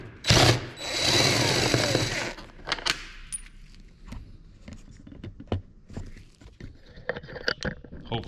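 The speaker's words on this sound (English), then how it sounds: "So now we can use the impact." An impact wrench spins out roof rack bolts on a GMC Yukon, with a loud burst of whirring near the start, then scattered clicks and metallic rattles as bolts come free.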